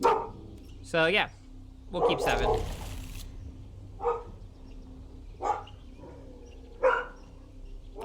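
A pet dog barks in several sharp, loud bursts spaced across the moment, close by indoors, with someone talking between and over the barks.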